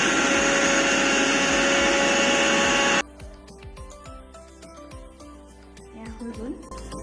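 A loud electric mixer grinder whirs steadily for three seconds as it blends onion, tomato and chili into paste, then cuts off abruptly. Someone talks afterwards amid light kitchen clatter.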